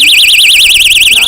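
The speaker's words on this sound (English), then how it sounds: "We got the flashlight / alarm." A flashlight keychain personal alarm blares a piercing, rapidly warbling electronic shriek, very loud and up close, wavering steadily without a break.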